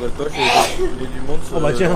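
A single sharp sneeze bursts out mid-conversation during a Farming Simulator session on the Le Petit Limousin map, loud and close, with French-speaking voices chatting before and after it.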